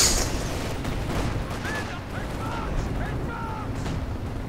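Artillery fire in Company of Heroes 2 rumbles as distant booms and crackling blasts over a constant battlefield roar, with faint tonal sounds mixed in.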